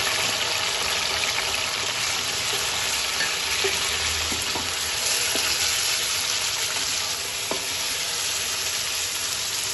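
Mutton frying in a pot with a little yakhni stock for mutton pulao, a loud continuous bubbling sizzle with wet crackles and occasional stirring knocks, close up, no talking.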